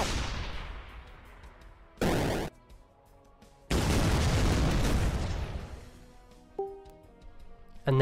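In the tank artillery game Shell Shock Live, a loud cannon shot booms and then a heavier explosion rumbles and fades, with a short burst between them and a small chime afterward.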